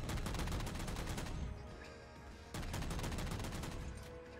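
Rapid automatic gunfire in Halo: Reach, a dense, steady burst of shots that pauses for about a second, then picks up again with the same fast rhythm, loud and close.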